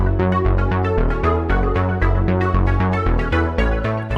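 An 80s Italo disco synth track with a steady pulsing bass and drums, a bright synth lead on top, and reverb and delay sends giving a spacious, full mix that plays loud and unbroken.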